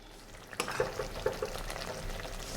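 Creamy sweet corn masala is stirred and cooked in a pan, a soft sizzle under a few light scraping stirs and small clicks, fairly quiet and close.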